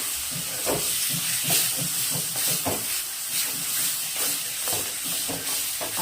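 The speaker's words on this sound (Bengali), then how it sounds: "এইবার আমি কচু শাকটা ঢেলে দেবো এর মধ্যে" Taro leaves cook in a pan with coconut, giving a steady close sizzling hiss broken by soft irregular taps and crackles.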